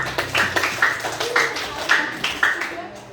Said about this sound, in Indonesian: silakan tepuk tangan dulu buat Manik.